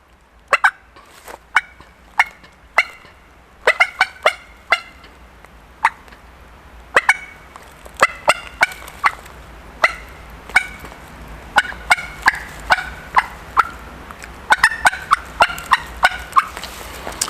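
Wild turkey cutting imitated by a caller: sharp, loud, irregular clucks, some single and some in rapid bursts, with short pauses between them and no talk.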